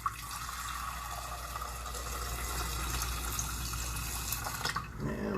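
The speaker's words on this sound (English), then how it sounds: "We're just going to add water" Water pours steadily into a pot of corn, a continuous close splashing stream that stops abruptly near the end.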